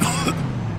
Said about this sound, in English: Every time I cough, it feels like I'm being stabbed in the chest.